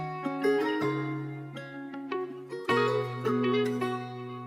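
A rocky hip hop electric guitar sample pitched up three semitones with no effects, playing clear plucked single notes and short melodic phrases over a low sustained bass tone, dry and alone.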